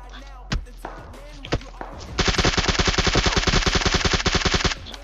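Gunfire in a battle royale shooter: two isolated sharp shots, then a fast, loud burst of automatic fire lasting over two seconds, close and dominant over faint background game sound.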